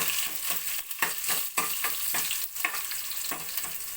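Steady crackling sizzle of dried red chillies frying in hot oil with shallots, with a few brief stirring scrapes breaking through at intervals.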